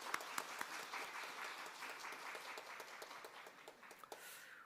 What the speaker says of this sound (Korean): 함께 박수로 축하하겠습니다.